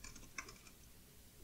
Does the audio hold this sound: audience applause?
no